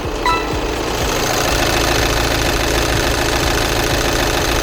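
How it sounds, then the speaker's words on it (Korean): A Volkswagen Passat 2.0 TDI diesel engine idles steadily with a low, rattling clatter, close by and constant throughout. "그럼 바로 영상으로 엔진 소음 한번 담아보도록 하겠습니다."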